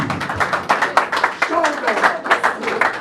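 Church hall audience applauding for Jesus, a dense burst of rhythmic clapping mixed with shouting and cheering voices, loud and close.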